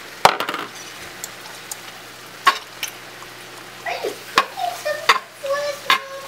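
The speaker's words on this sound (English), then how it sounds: "you're just going to stir the meat around up in there." Meat frying in a pan is stirred with a utensil, giving sharp scrapes and knocks over a low, steady sizzle, with a few faint clinks.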